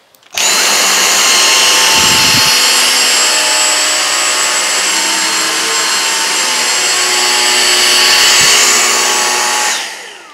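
A Dyson V6 cordless vacuum cleaner runs on a vinyl floor strewn with flour and rolled oats, a loud steady motor whine holding for about ten seconds before it cuts off.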